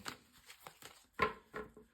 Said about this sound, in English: So a good shuffle